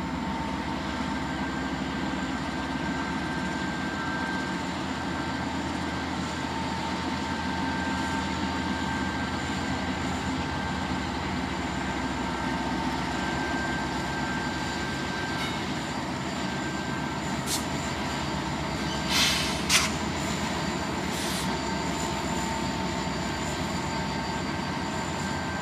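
A Norfolk Southern freight train hauling Autorack cars, including rebuilt and Conrail units, rumbles steadily past as a continuous low roar of wheels and cars, with a brief metallic squeal near the end.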